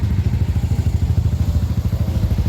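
A Yamaha Aerox V2 scooter engine fitted with an aftermarket pipe idles close by, a loud, steady low throbbing pulse with no talk over it.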